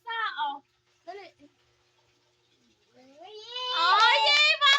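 A voice imitates a cat's meow: two short mewing cries, then a pause and a longer, rising, wailing meow that grows loud and strained toward the end.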